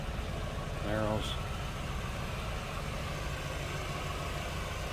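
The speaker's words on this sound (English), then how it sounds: "Of course, dual exhaust from that LT1." A 1994 Chevrolet Impala SS's LT1 V8 idles with a low, steady burble through its dual exhaust, a brief voice rising over it near the start before the rumble continues alone.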